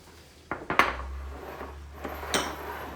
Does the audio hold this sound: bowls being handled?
yes